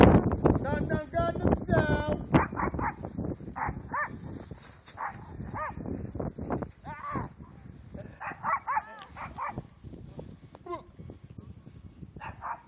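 A puppy outdoors in snow during a blizzard gives a series of yips, whimpers and short barks at close range, scattered irregularly throughout, with a person talking over and between the calls.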